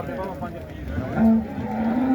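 A buffalo at a busy Punjab livestock market lets out a loud, drawn-out low moo near at hand, over a din of crowd noise and scattered voices.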